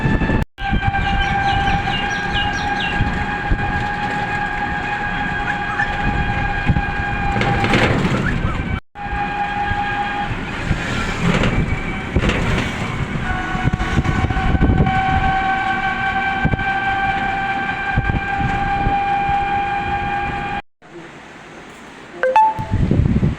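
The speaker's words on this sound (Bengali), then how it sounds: "বন্ধুরা, ট্রেন থেকে নেমে পড়েছি মদনপুর স্টেশনে" A train pulls into Madanpur railway station with loud, rumbling carriages. Its horn sounds in long sustained blasts, broken by brief drops in the noise, and ends in a quieter stretch.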